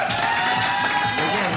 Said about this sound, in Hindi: तो जिनको लगता है आदि का शेर अच्छा है तालियां बजाइए।